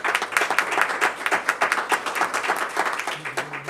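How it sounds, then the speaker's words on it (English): Audience applause at a school board meeting: brisk, moderately loud clapping from a room of people, steady for a few seconds without talk. "We clapped too early."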